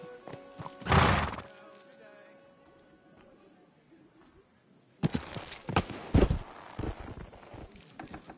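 A horse in the medieval game Kingdom Come Deliverance 2 gives a loud, close whinny, followed by clip-clopping hooves and more neighing as a rider's voice speaks over it.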